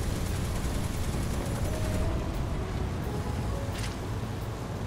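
Continuous rapid turret gunfire in Final Fantasy VII Rebirth, a dense, unbroken roar of shots at steady loudness with faint higher pings over it.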